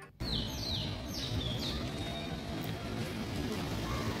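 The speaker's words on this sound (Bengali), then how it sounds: "একদম পাখির কিচির মিচির" Several birds chirp and tweet at dawn around sunrise, with a handful of bright calls early on over a steady outdoor hum, close to moderately near.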